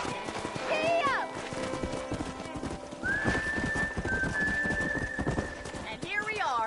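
Horse hooves clip-clopping in the video game Red Dead Redemption on PlayStation 4, a steady rhythmic beat under game music and a sustained whistle-like tone, with a whinny near the start and end and a voice briefly speaking.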